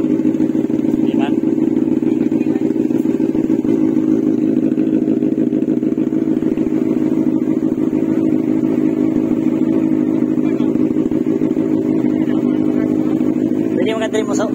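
A Benelli 600i four-cylinder motorcycle with dual mufflers idling close by, a loud, steady, smooth engine drone held throughout, with a slight rise at the end and talk over it.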